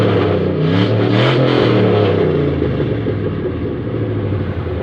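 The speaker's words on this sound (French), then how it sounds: "C'est un V8 en échappement libre." A V8 car with an open, unmuffled exhaust rumbles and revs loudly close by, a deep throaty roar with a couple of quick blips before settling into a steady, gradually easing idle.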